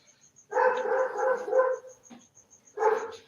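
A dog barks close by in two short bursts, several sharp barks in a row, then a pause and one more bark, while a faint steady high tone sounds throughout.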